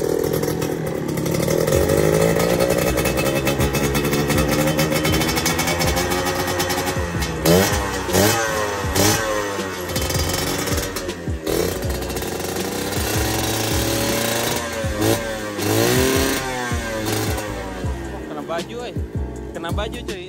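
A modified RC100 two-stroke motorcycle with a TM34 carburetor revs loudly up close, the raspy engine note rising and falling in repeated sharp blips, with a person talking over it.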